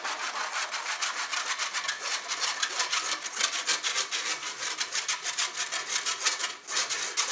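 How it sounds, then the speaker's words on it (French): Flour and baking powder being sifted through a sieve into a mixing bowl for a leek cake make a close, continuous scratchy rubbing with a quick, even shaking rhythm and no talk. "Et on tamise."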